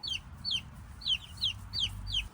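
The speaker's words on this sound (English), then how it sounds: "While we work here, I brought the chicks into the run." Young chicks in an outdoor coop run give a series of about six quick, bright cheeps at a steady rhythm, close and moderately loud over a low background rumble.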